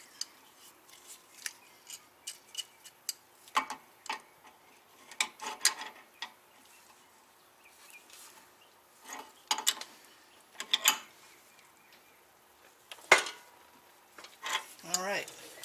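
Metal wrench clicks and ratcheting taps while tightening a Vibrant O2 sensor spacer on a vehicle exhaust, sporadic close mechanical ticks in irregular bursts with quiet gaps between them.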